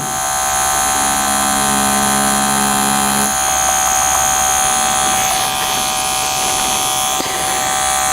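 A tattoo machine with a fine needle runs during a tattoo lesson, a steady, loud electric buzz with a constant hum, close and unbroken throughout.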